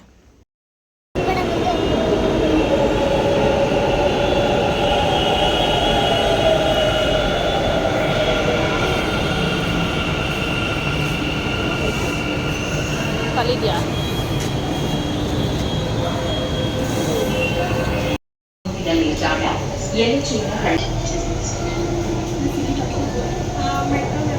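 A metro train rumbles steadily along the rails, a loud continuous roar with high whining tones, briefly cut off near the end before resuming.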